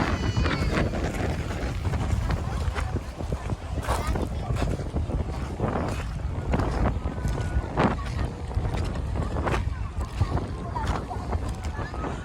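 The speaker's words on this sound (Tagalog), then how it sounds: "At malakas ang hangin." Strong mountain wind in Nueva Ecija, Philippines buffets the microphone beside a Foton Tornado M2E camper van in loud, constant low rumbles, with gusts rising and falling throughout and no clear voices.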